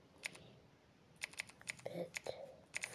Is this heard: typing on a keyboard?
yes